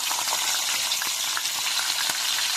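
Slit green chillies fry in hot oil, giving a dense, steady sizzle with faint crackles close by and no voices.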